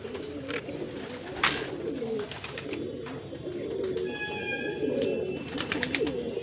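Shahjahanpuri breed pigeons coo close by, soft repeated throaty calls over a steady rustling background, with a few brief chirps.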